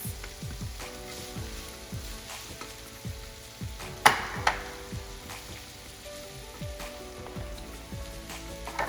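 Cut-up yellow squash and zucchini sizzle quietly in a pan, a soft crackling bed with a repeating pattern of light stirring taps and a couple of sharper clatters near the middle, no talking.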